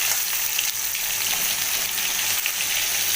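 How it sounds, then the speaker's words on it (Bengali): Pointed gourd (potol), salted, frying in hot oil in a pan, giving a steady, close, continuous sizzle and crackle throughout, with no voices. "পটলগুলো খুব হালকা লালচে আভা করে ভেজে নেব"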